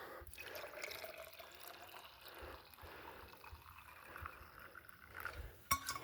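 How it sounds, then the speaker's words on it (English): Water is poured into a mix of refined ore and acid to thin it, making a steady, soft trickling and splashing, faint and continuous with a small clink near the end. "Add some water."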